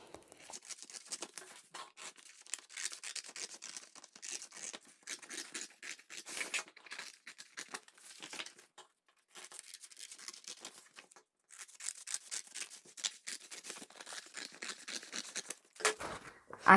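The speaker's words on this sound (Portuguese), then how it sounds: "Vou começar a cortar aqui o molde base." Scissors snip through a paper skirt base pattern in steady bursts of crisp cutting, close and fairly quiet, with brief pauses between runs of cuts and no talk.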